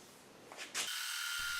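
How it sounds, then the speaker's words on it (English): A power sander whirs up and settles into a steady, close, high-pitched drone while shaping the edge of a segmented wooden platter into a circle. "now I'm going to sand it to that circle edge."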